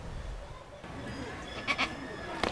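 A goat under a stadium seat at a soccer game gives a pair of short, wavering bleats late in the clip, heard over a low hum of background noise.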